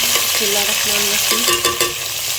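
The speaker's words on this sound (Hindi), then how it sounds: "इसलिए हम इसमें डाल रहे हैं अदरक लहसुन का पेस्ट और हरी मिर्च इसके साथ ही फ्राई होंगी।" Chicken and onion frying in a pan with ginger garlic paste and green chillies for a chicken aloo shorba, a steady close sizzle with a few brief scrapes of stirring.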